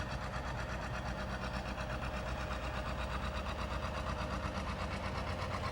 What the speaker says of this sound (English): Following that, we have another John Deere 820, being driven by Stan Wood.